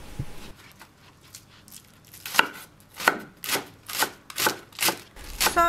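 A knife finely chops five green onions on a cutting board. After a quiet start come crisp, evenly spaced chopping strokes, close and distinct, settling into a steady rhythm.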